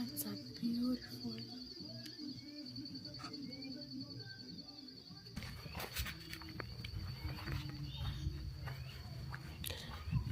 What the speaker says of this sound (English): these birds are beautiful